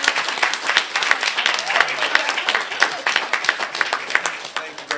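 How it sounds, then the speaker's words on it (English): A round of applause from an audience at a board of education meeting, with steady crisp clapping from many hands throughout, loud and close, a few voices mixed in. "And we can have a round of applause."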